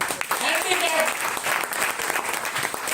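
An audience applauds a Paralympic gold medallist from the Tokyo Games, with dense, steady clapping throughout and a voice talking over it.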